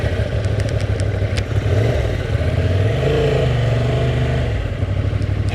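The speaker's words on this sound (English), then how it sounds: "Start. A Honda Transalp." A Honda Transalp motorcycle engine starting and running, a loud close rumble that swells as it revs and pulls away, steady throughout with no speech.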